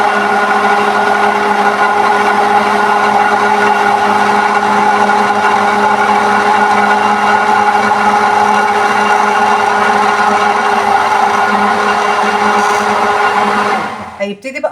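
A hand blender whirring steadily while oil is blended in to make eggless mayonnaise, a loud, constant motor drone with a slight tonal hum, cutting out abruptly with a clatter near the end.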